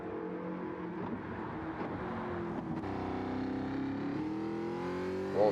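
A car engine in a racing video game revs steadily and quietly, with a brief dip and climb near the end marking a quick short gear shift, and no talking over it.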